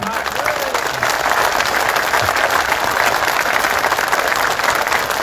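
A crowd at a political gathering applauds for Chief Minister Devendra Fadnavis with dense, sustained clapping that stays loud and even, while a voice speaks faintly underneath.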